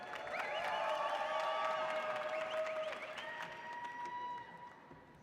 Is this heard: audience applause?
yes